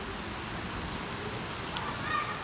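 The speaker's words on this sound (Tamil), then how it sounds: "மழை வருது" Rain falls steadily in Bangalore, a close, even hiss of drops with no pauses throughout.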